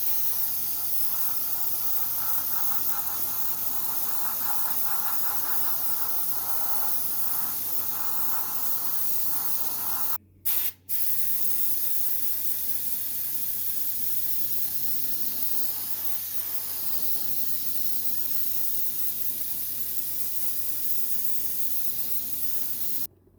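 An airbrush sprays white base coat paint onto an Airfix SLS Artemis model kit in a long, steady hiss, with two brief pauses around ten seconds and a low motor hum underneath.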